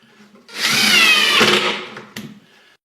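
A power drill drives screws into a wooden drawer, one sustained whirring burst of about a second and a half, close and fairly loud, tailing off with a short clatter at the end.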